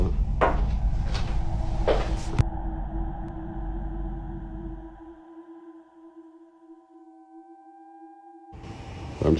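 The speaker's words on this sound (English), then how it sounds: "I can hear banging on the... Can you hear it? It's this door." Banging on a door indoors: a quick run of four knocks in the first few seconds, then near silence with only a faint electronic hum before some noise returns at the end.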